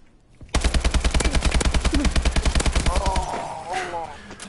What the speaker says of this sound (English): that was a long distance shot there